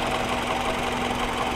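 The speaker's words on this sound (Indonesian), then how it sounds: "Nah ini untuk mesinnya, gak ada kendala suaranya ya, baik suaranya" A 2005 Toyota Alphard 2.4 V engine idles steadily and close by, a continuous even hum with a faint knocking texture and no talk over it.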